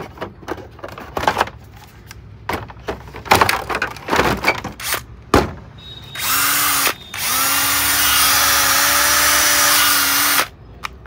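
A Bosch cordless power tool, run after a series of handling clicks and knocks: a short burst of the motor, a brief stop, then a longer steady whine with a rising pitch that runs for several seconds before cutting off sharply.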